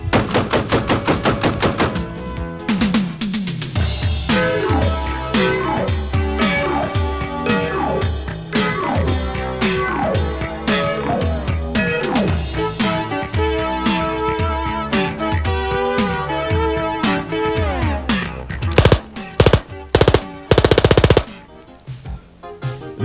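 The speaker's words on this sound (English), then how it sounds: "The Support Weapons Corporation MF-30, lightweight, low recoil, automatic cannon." A Support Weapons Corporation MF-30 lightweight, low-recoil automatic cannon fires loud, rapid, continuous bursts that go on for over twenty seconds. It ends with a few separate heavy single shots and no talking.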